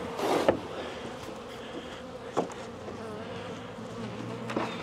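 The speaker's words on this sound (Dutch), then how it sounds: "En dan stromen de bijen erin." Honey bees buzz steadily as they stream into a hive through an opened flap, a dense droning hum with a few sharp knocks and clicks near the start and middle.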